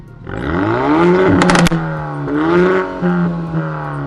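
Hyundai i30N fitted with a Milltek exhaust revs loudly up close, the engine note climbing and falling in swells, with a sharp burst of crackling pops in the middle and a few more later.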